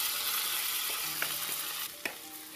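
Rice toasts in butter in a pan for meat pilaf, giving a soft continuous sizzle with occasional light scrapes and taps as it is stirred.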